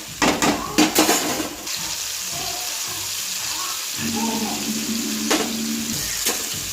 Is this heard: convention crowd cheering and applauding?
no